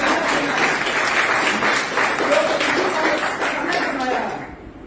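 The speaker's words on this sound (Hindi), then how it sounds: "फैकल्टी के जोरदार तालियां" Faculty members give hearty applause to welcome guests at a talk, a continuous thick wash of clapping for nearly five seconds with a voice faintly mixed in before it fades.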